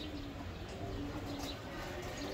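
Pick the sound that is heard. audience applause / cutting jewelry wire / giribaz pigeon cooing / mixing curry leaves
giribaz pigeon cooing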